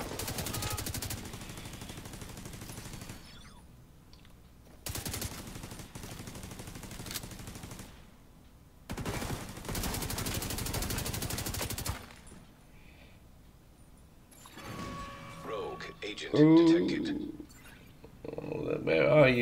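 Bursts of rapid automatic gunfire aimed at holographic soldiers in a video game, several sustained volleys separated by short pauses, followed by voices and game sounds.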